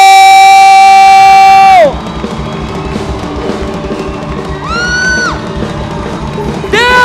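A church congregation cheers, whoops and yells at a lively worship service, with loud sustained crowd noise under strong music that drops after the first two seconds and swells again near the end.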